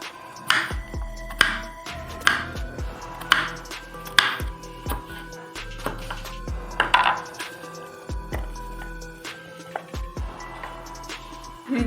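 A knife chops young radish and radish greens on a board, a steady series of sharp, close taps repeating about every second with small clinks between them, and no talking.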